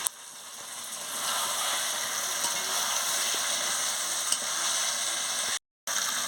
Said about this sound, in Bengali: এবার আমি মাংসটা দিয়ে দিচ্ছি দিয়ে মাংসটা মশলার সঙ্গে ভালো করে কষিয়ে নিচ্ছি